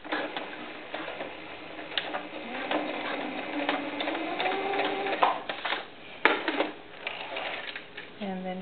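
A sewing machine runs in short stitching bursts while hemming a ruffled doll skirt, with ticking mechanical rattle close by and someone talking over it.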